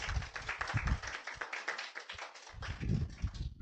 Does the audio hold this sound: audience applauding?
yes